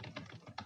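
Quick, quiet keystrokes on a computer keyboard, several taps in a short uneven burst at close range.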